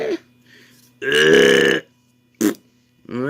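Several loud, close burps come after eating Yopli yogurt. A long, deep, drawn-out belch sits between shorter ones, with silent gaps separating them.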